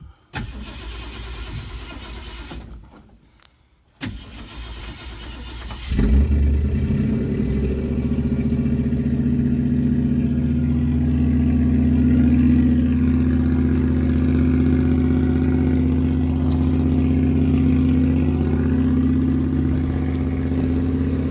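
A Ford Ranchero engine cranks briefly, stalls to a pause, then catches and fires up into a loud, steady rumbling idle with slight revving that holds to the end.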